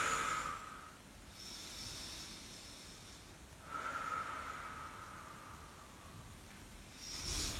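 Slow, deep exhaling breaths during a bodyweight full-body workout, soft airy whooshes recurring every few seconds, close and quiet with no talking.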